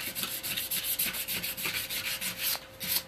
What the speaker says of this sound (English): Sanding is my favorite part.